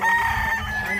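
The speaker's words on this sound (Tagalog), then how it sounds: "ang dami ng mga manok ni Diwata." Chickens and a rooster at a farm rest house crow and cluck together in a short, close, busy burst of fowl calls.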